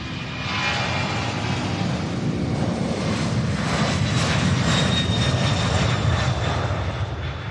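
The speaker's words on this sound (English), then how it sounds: "Boeing 767 heading to Albuquerque, New Mexico." A 25-year-old Boeing 767 jet, first flown in 1997, passes at SDF airport in Louisville with a steady, loud engine roar that holds for the whole stretch, broad and continuous with some wind rumble.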